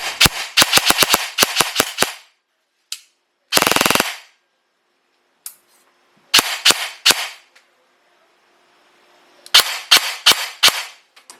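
A custom-upgraded G&G ARP9 airsoft gun fires several rapid bursts of sharp, snapping shots, each burst a quick string of clicks, with short pauses and a few single shots between, loud and close with no talk.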